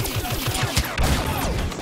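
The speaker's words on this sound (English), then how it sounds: "Turret? Yeah, it was a turret." Rapid turret gunfire from Star Wars Battlefront, a dense barrage of repeated blasts and impacts that keeps going without a break across the moment.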